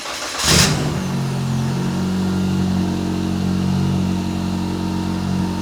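A Fox Body Mustang engine catches with a brief rev, then settles into a steady, close, rumbling idle that holds without change.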